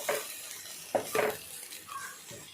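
Mixed vegetables stirred in a pan, a few brief scraping and clinking strokes of a spoon against the pan over a faint sizzle, close by.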